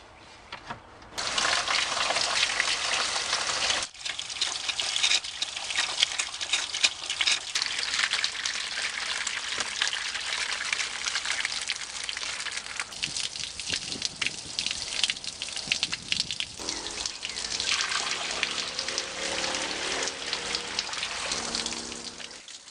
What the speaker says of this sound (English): I'm letting the hose run for about 5 minutes in order to flush the radiator